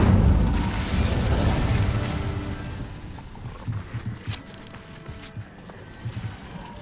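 A fiery Incendio spell cast in Hogwarts Legacy erupts as a loud burst of whooshing flame, then fades into softer crackling and a few small pops.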